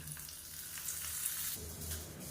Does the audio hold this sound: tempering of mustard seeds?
yes